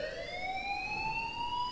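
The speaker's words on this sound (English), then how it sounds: "please turn off that alarm since that's your job" Alarm in the game Life is Strange, a steady rising electronic wail sounding continuously and loudly with no voices.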